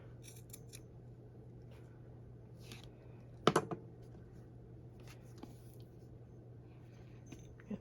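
Scissors snip a frayed end off material in a junk journal. A single quiet, crisp cut stands out against a soft background hum, with light handling noises around it.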